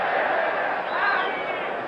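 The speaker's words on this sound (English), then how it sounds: "Forget the yell of the crowd" A boxing crowd roars in a steady, dense wall of yelling and cheering throughout a Carlos Monzon versus Jean Claude Bouttier fight, loud and continuous with no clear breaks.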